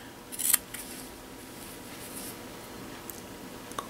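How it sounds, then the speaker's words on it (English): Scissors trim a quarter inch off a sheet of paper, giving a quick cluster of close, crisp snipping cuts near the start. Faint rustling and a tiny click follow in an otherwise quiet room. "So next you'd be trimming 1/4 inch."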